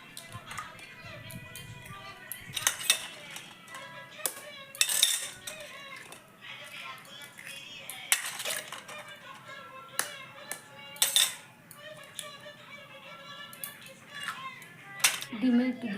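An egg is beaten with salt and turmeric in a bowl for a Bengali egg dish, with repeated sharp clinks of a utensil against the bowl in irregular bursts and some talk.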